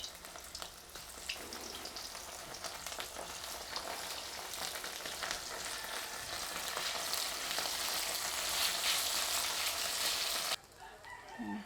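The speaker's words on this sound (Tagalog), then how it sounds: "Ilalagay ko na po yung mga tuyo na sap-sap." Dried sapsap fish fry in hot oil outdoors, a loud, steady, crackling sizzle that runs nearly the whole time before dropping off abruptly near the end.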